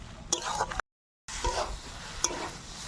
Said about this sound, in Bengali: মশলার সঙ্গে সবজি খুব ভালো করে কষিয়ে নিয়েছি।